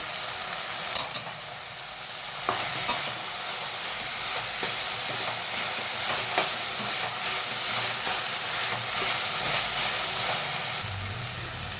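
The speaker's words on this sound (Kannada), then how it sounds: "ಇದು ಬೇಯಿಸಿ ಇಟ್ಕೊಂಡಿರುವಂಥ ಅವರೆಕಾಳು ಹಾಕ್ತೀನಿ." Cooked hyacinth beans are stirred into tomatoes frying in a pan, giving a steady close sizzle with a hissing steam layer and occasional scraping and clinking of the spoon against the pan.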